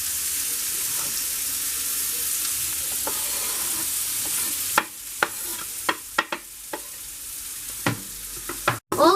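Onion and garlic frying in butter in a pan, a soft continuous sizzle that turns busier halfway through as sharp scraping stirs and clatters break in, ending with a few louder knocks.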